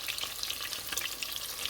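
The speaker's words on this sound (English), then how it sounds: "we've got those boiled lamb chops now frying in some mustard oil" Boiled lamb chops frying in hot mustard oil in a pan, a loud, steady crackling sizzle with fine spitting pops, close by and with no voices.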